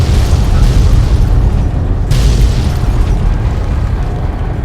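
Loud, continuous explosions rumble and boom for several seconds, with a fresh burst crashing in midway, thick low-end roar throughout.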